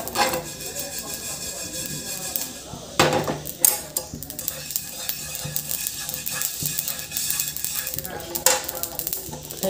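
Cumin, fenugreek, fennel, ajwain and black sesame seeds dry roasting in a pan for raw mango pickle, with scraping stirs, metallic clanks and light crackle throughout.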